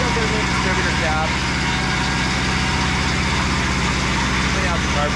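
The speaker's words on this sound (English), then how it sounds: "the mill seems to be running good again. Still got a little bit of a rough idle" A Mobile Dimension portable sawmill's engine idles roughly with a steady, close, low mechanical drone and throbbing pulse that runs unbroken throughout.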